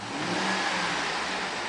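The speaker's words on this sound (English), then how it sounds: "It is running right now, so I'm going to rev it." A 2007 Chevrolet Suburban LT with a 5.3 liter V8 and 78,284 miles revs with a steady, close engine roar that holds at an even level for the whole short stretch.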